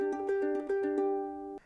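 A single strummed ukulele chord, the opening chord of a song, rings out clear and close with a few quick repeated strums in a one-two pattern before it fades and is damped.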